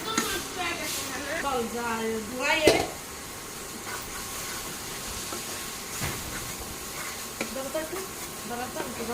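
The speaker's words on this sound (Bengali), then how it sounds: "একটু ভেজে নেব ভালো করে" Masala fries in a pan with a steady hiss and sizzle while a spatula scrapes and stirs it in repeated strokes, under a voice speaking nearby.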